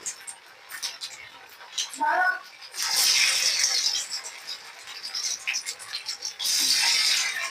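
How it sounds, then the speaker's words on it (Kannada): Fenugreek leaf and puffed rice snack batter drops into full-hot frying oil, setting off loud bursts of hissing sizzle that swell and fade, with a brief voice near the start. "ಈಗ ಎಣ್ಣೆ ಬಿಸಿಯಾಗಿದೆ ಸ್ನೇಹಿತರೆ ಈಗ ನಿಧಾನಕ್ಕೆ ಒಂದೊಂದೇ ಎಣ್ಣೆಯಲ್ಲಿ ಹಾಕೊಳ್ಳೋಣ"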